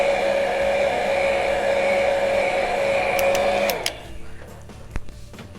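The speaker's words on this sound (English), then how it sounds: "my hairdryer and that heat, and I quickly dried one side" A hair dryer blows a steady, loud whir while drying varnish on a painted holiday tag, then cuts off and leaves a few faint clicks and handling sounds.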